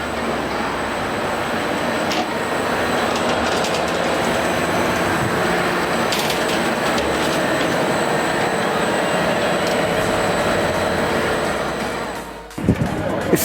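Loud, steady engine-room roar aboard a cruising 170-foot Feadship yacht with its engines at about 1,200 RPM, a dense continuous drone with faint mechanical whine, cutting off abruptly near the end.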